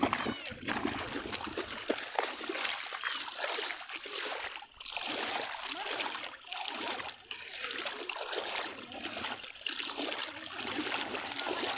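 Seawater splashes and sloshes near the shore, a steady close wash of water with repeated surges, heard under people chatting.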